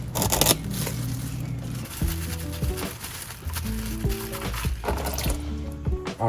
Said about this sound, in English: I'm gonna unscrew it fully now. It should flow into the oil drain pan.